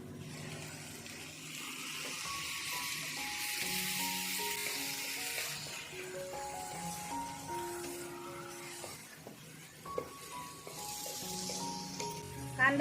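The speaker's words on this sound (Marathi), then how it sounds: "टोमॅटो हिरवी मिरची व्यवस्थित परतून घेतलेली आहे" Tomato, onion and green chilli sautéing in a pan for egg ghotala give a soft, continuous sizzle with occasional stirring, while a faint tonal hum runs underneath; no speech is heard.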